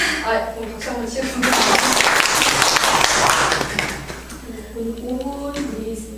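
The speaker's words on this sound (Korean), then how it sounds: "그럼 박수 한번 치고." Audience clapping at a middle-school speech contest erupts for a few seconds between stretches of talk, a broad burst of hand claps that fades as a voice resumes.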